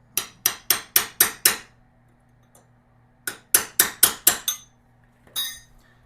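A motorcycle sprocket lock ring on a Lifan KPT 400cc is struck with a hammer in two quick bursts of six and five sharp metallic blows, close and ringing, followed by a brief scrape, no talk.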